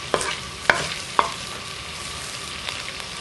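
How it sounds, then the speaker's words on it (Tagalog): Chicken gizzards sauté in a pan with a soft, steady sizzle, punctuated by a few sharp scraping clicks of a utensil stirring against the pan, close by with no talking. "once na-add na natin yung ating balun-balunan or gizzard, medyo igigisa natin ito ng kaunti"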